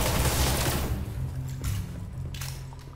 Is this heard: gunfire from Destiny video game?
yes